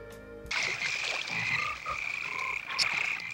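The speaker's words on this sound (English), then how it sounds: "Arlo and Susie stand in a swamp and start kissing frogs" Frogs croak steadily in a movie swamp scene, a loud, dense chorus that starts abruptly and continues throughout, with no talking.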